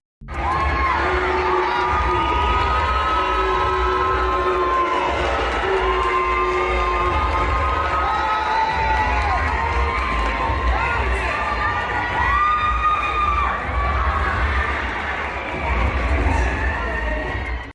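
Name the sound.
arena crowd cheering and booing at WNBA Fever game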